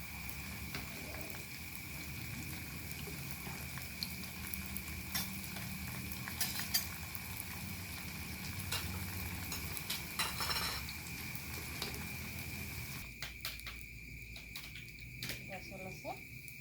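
Tempeh fries and is stirred in a pan, a steady sizzle with scraping stirs throughout, a faint high tone running underneath and the frying thinning out near the end.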